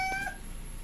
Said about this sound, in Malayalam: അപ്പോഴത്തേനും നമ്മുടെ പൂച്ചക്കുട്ടൻ വന്നിട്ടുണ്ട്.